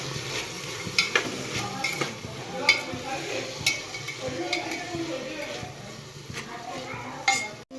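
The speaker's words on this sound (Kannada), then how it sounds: "ಮಸಾಲೆ ಇವೆಲ್ಲ ಜಲ್ದಿ ಫ್ರೈ ಆಗ್ತಾವೆ ಉಪ್ಪು ಹಾಕೋದ್ರಿಂದ" Spices frying in a pan with salt, a soft sizzle under repeated sharp clinks and scrapes of a metal spoon against the pan, loud knocks at irregular intervals.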